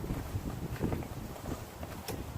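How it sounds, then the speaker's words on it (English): Wind buffets a microphone outdoors, a steady low rumble with gusty fluctuations over a couple of seconds and no speech. "Ooh, the wind."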